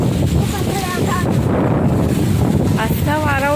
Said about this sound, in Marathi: बाप रे, किती हवा येते.